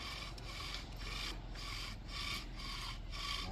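A wooden bow drill spindle grinds against a wooden fire board in quick, steady back-and-forth strokes, roughly two each second. The dry, rasping rub is quiet and close, and no voices are heard.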